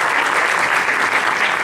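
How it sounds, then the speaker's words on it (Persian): An audience at a music school concert at the Niavaran cultural center applauds loudly and steadily, with dense clapping filling the hall. "تشویق بفرمایید"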